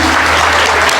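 A brief, steady wash of applause from a board of education meeting audience, dense clapping heard over a low room hum.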